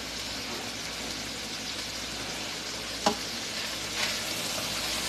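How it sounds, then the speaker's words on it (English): Coleslaw mix sautéing in a pot for cabbage soup with sausage, a continuous even sizzle with a couple of brief stirring knocks. "So we're gonna let this saute for a minute."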